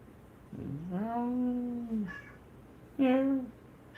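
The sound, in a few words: cat meowing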